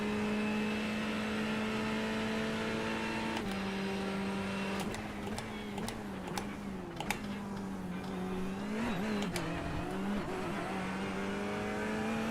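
A BMW race car engine in the iRacing sim drones at steady high revs, with brief shifts and lifts through a chicane, sustained mechanical tone with no voices.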